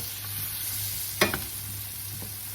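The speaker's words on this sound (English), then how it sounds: "So I'll let it saute for a little while." Carrots and potatoes sautéing in a pot for a one-pot quinoa meal, a soft steady sizzle with a low hum underneath and one sharp clatter of a utensil midway.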